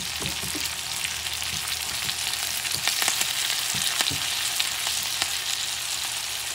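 Sausage, bacon and peppers fry over medium heat in a pan with a close, steady sizzle and scattered pops and crackles, continuous throughout with no voices.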